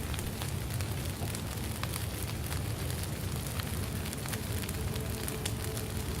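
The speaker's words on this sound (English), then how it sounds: "Look, it's still raining. Their fire's raging." Steady rain and a raging fire crackle together in the survival video game Jaws of Extinction, a constant dense hiss with faint pops, heard alone.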